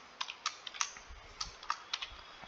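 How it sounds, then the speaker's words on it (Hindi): Typing a captcha on a computer keyboard, roughly a dozen quick, light key clicks in an uneven rhythm over a couple of seconds, close and fairly quiet with no speech. "एंड देन आपको कैप्चा एंटर करना है,"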